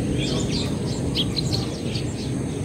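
Birds chirp and tweet in quick scattered bursts in the morning, with chickens calling, over a steady low background hum, fairly faint and at a distance.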